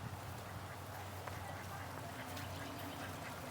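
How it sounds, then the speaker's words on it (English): A resident pair of ducks quacks in a garden pond in an Asian-style garden, several short nasal calls scattered over soft outdoor background noise, fairly faint and somewhat distant, with no speech. "We have a nice resident duck couple."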